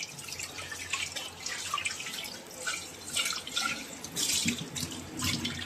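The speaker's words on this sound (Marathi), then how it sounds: "मी आता स्वच्छ धुवून घेते पाण्याने" Water from a tap splashes and trickles while a new clay pot is rinsed clean, with irregular splashing and dripping close by and no talk over it.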